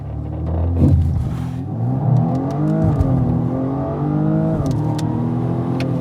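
A BMW M235i Gran Coupé launching hard with launch control, its engine note rising through several upshifts with brief dips between gears, loud and close, with a steady road rumble underneath.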